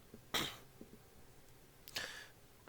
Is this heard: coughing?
yes